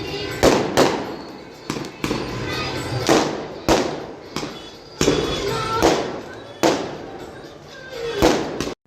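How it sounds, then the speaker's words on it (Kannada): Firecrackers burst at a temple Karaga festival in Immadihalli, a string of sharp, loud cracks and thuds spaced every second or so, each with a short echoing tail over a busy crowd murmur. "ಆ್ಯಂಡ್ ಇಲ್ಲೆಲ್ಲ ಪಟಾಕಿ ಹೊಡಿತಿದ್ರು"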